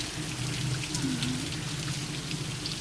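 Steady rain falls outdoors in a continuous, even hiss of drops, moderately loud and unbroken for the whole stretch, with no voices.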